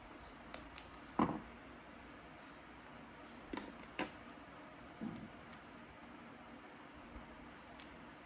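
Scissors cut paper for a postcard craft project, producing a few sparse, quiet snips and crisp clicks over faint room hiss.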